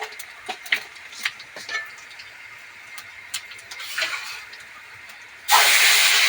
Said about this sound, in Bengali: প্রথম হচ্ছে জিরে আর মৌরিটা দিয়ে দিলাম আর তারপরে মেথিটা দিয়ে দিচ্ছি